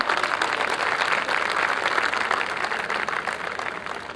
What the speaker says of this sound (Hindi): कृपया उनके लिए तालियां।